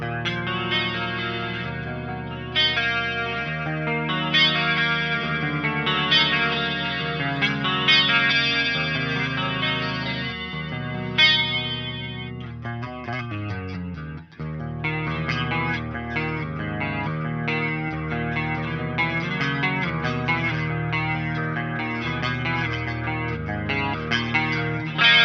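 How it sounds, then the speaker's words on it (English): Electric guitar played through the mixwave Spiritbox plugin's chorus effect, shimmering chords ringing sustained and wide, with a brief break of strummed texture midway before the chorused chords continue. "That's a nice chorus over there."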